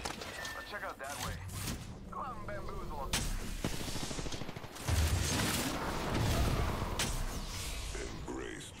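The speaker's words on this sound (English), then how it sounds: "Shots fired and they're hitting me." Video game gunfire from Apex Legends, with sharp repeated shots and bursts over a busy mix of in-game effects, continuing through the stretch with a voice talking over the action.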